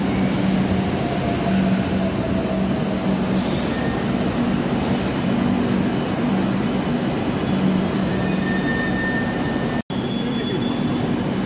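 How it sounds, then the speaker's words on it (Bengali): A Kolkata Metro Blue Line train pulls into the platform, a steady loud rumble of rolling wheels and motors filling the whole stretch, with thin squealing tones from the wheels near the end. "দেখতে দেখতে আমাদের এসপ্ল্যানেডে যাওয়ার ট্রেন এসে গেল"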